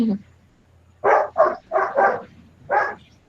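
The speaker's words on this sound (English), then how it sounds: "My dog is barking because someone else's dog is barking." A dog barks close by in a home, giving a run of five sharp barks, the first four in quick succession and the last after a short pause, with a brief sound just before them.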